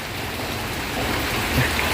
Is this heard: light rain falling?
yes